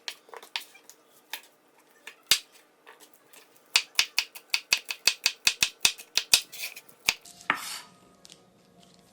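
A knife chopping onions on a cutting board for migas, sharp clicking strokes coming in uneven runs that speed into a quick, steady rhythm, close and clear, with a scraping sweep near the end.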